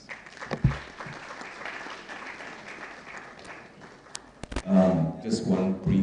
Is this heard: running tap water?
no